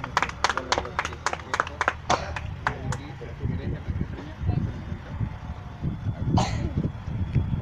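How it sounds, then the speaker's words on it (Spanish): Short applause at a municipal chess tournament awards ceremony in Mala, Peru, a burst of close, sharp clapping that fades after a few seconds into low outdoor rumble and background voices. "Un favor, aplauso."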